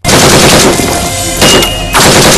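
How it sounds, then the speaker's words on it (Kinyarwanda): Very loud automatic gunfire from an action film fills the whole passage in dense, continuous bursts, with a brief dip in intensity partway through and no clear talking. "Umva gatwenge k'amasasu!"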